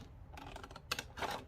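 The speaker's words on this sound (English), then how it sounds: "I'll take my scissor and I'll start cutting them on the lines" Scissors snip through cardboard toilet roll cores in a quiet room, a run of soft short crunchy cuts that turn into a few sharper, louder snips near the end.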